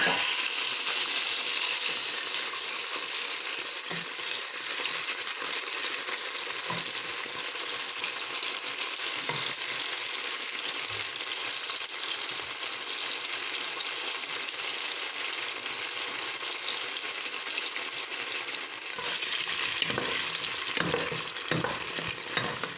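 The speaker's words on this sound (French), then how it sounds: "on met de l'huile à chauffer. Alors je vais mettre les crevettes." Shrimp sizzle and crackle steadily as they fry in hot oil for dombré aux crevettes, a continuous loud hiss with occasional stirring scrapes, and no one speaks.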